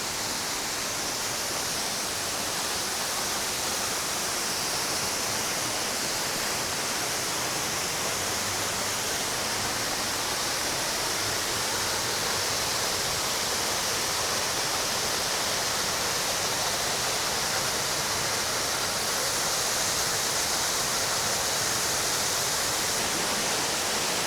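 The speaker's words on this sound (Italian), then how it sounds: "mi sa che siamo arrivati alla cascata." Waterfall on the Cordevole river in Val Montareze near Sedico, pouring out a steady, dense, hissing roar of falling water that stays loud and unbroken from start to finish, with no voices.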